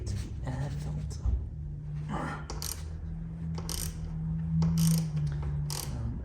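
Ratchet clicking in short bursts while fairings are removed from a BMW R NineT Racer, close and fairly loud over a steady low mechanical hum, with brief handling knocks between runs.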